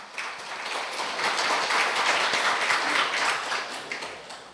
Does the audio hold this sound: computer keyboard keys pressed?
no